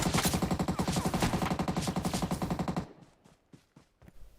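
Rapid sustained bursts of AUG rifle fire in PUBG Mobile, loud and dense, then a few sparser distant shots trailing off.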